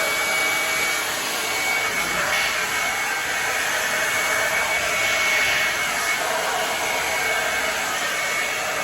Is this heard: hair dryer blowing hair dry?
yes